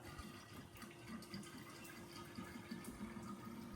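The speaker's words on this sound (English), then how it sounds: "We just got to put a little more coolant in it." Coolant pours into a Cummins truck, a soft, steady liquid gush and trickle running continuously at low level with no voices.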